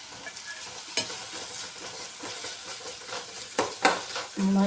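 Garlic and raw ginger hit a hot pan for a sprouted-bean curry, giving a soft continuous sizzle with scattered stirring clicks and scrapes and a sharper clatter near the end; no one speaks.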